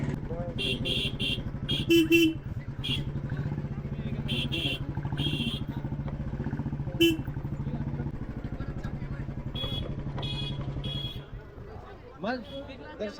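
A motorcycle engine putters steadily up close while riding at night into Tuljapur town, with a few horn toots from traffic and brief talking over the engine.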